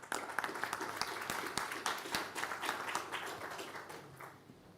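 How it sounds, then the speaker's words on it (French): Audience applause at a finance conference on emerging disruptive markets, a steady wash of many hands clapping that holds for several seconds and then thins out and fades near the end. "Sous vos applaudissements."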